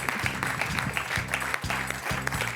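Studio audience on a French TV quiz show applauding a contestant, continuous clapping with rhythmic musical stabs pulsing underneath at regular intervals.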